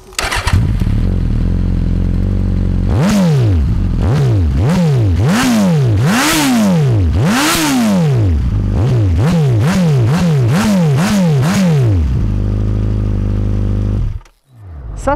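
A 2022 Suzuki GSX-S950 motorcycle idles loudly on its stock exhaust, then is revved in a series of sharp rising and falling bursts before settling back to idle and cutting off.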